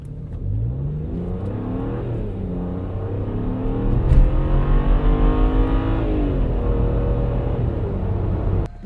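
A BMW 335i pulls hard on the highway, its engine note climbing steadily through the revs with a strong, continuous roar close up inside the car, no talking.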